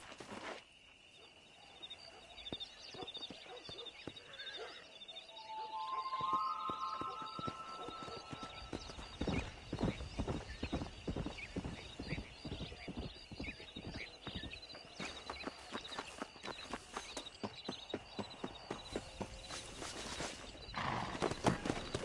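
Horse hooves clip-clop at a steady gallop during a riding race in Red Dead Redemption, rhythmic beats under faint wind and occasional horse sounds, with no talking.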